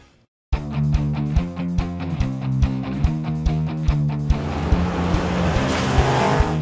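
Loud engine of a 2011 Ford Mustang with Lakewood suspension launching at the NMCA Pomona drag strip: a steady roar with rhythmic pulsing, rising into a broad wash of engine and tire noise near the end.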